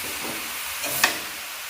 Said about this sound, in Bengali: গুড় দিয়ে আর ভালো করে নাড়তে থাকি